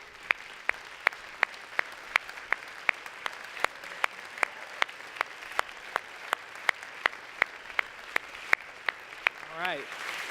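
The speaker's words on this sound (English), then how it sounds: "let's give a round of applause for our teachers" Applause for teachers at a church service, sparse and fairly faint, with a few distinct, evenly spaced claps sounding over a soft background murmur and a brief voice near the end.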